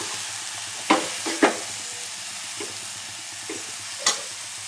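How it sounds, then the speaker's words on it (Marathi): Sliced cabbage sautés in a pan for a spicy Marathi cabbage masala, giving a steady close sizzle broken by a few sharp spatula knocks and scrapes, with no voices. "उभा कोबी कापलेला आहे, पाहू शकता तुम्ही. छान परतून घ्यायचं."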